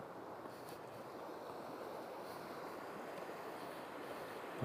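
A small creek flows over rocks after heavy rain in open country, giving a steady broadband rush and babble that holds at an even level throughout, fairly close and with no voices.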